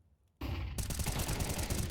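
Rapid gunfire from an esports CS:GO match erupts after a quiet moment, a dense, loud continuous burst of automatic shots that lasts to the end.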